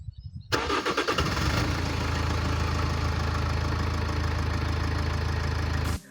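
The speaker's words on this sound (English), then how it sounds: "As for the engine noise, you do hear the diesel, but it's surprisingly smooth." A Lexus IS 220D diesel engine starts up after a quiet moment and settles into a steady, smooth idle with a low rumble and faint clatter, close and continuous.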